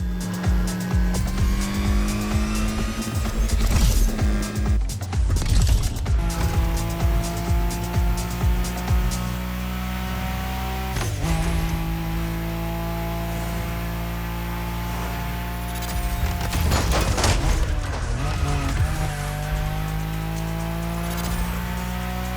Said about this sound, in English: challenge yourself even more in the time attack with a maxi buggy, the Peugeot 3008 DKR